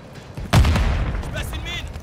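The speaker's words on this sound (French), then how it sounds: "Grenade!" Grenade blast in the Call of Duty MW3 shooter game, a single loud boom that thumps in and rumbles briefly, with brief game sounds around it.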